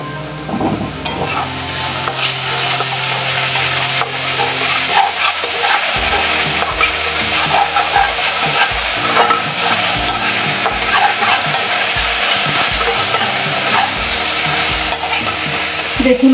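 Water spinach (kolmi shak) fries in a pan over high heat with salt, a loud, steady sizzle running throughout, punctuated by repeated rhythmic scraping and stirring strokes.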